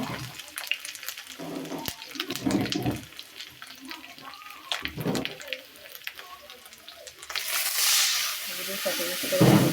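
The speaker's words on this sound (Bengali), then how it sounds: "এখানে আমি এখানে একটু পানি দিয়ে দিব।" Water is poured into a sizzling pan of pabda fish curry with pointed gourd, eggplant and potato, the hiss surging near the end, amid stirring clatter and a voice talking intermittently.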